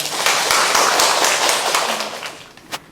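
A seminar audience of elderly people at a rehabilitation hospital's academy lecture claps to welcome a neurologist speaker. The applause is loud and dense at first, then thins and tapers off into a few scattered claps near the end.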